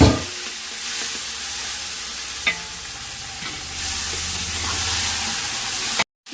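Mint, tomato and fenugreek leaves fry for pulao with a steady close sizzle, punctuated by a few sharp spoon knocks and stirring scrapes, ending in an abrupt cut.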